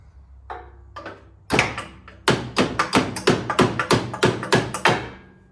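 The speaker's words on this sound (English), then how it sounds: "I'm going to try and drive this bolt through." Hammer blows drive a bolt through on a BMW E36 during power steering work on jacks: a few light taps, then a steady run of about ten loud, sharp metallic strikes close by.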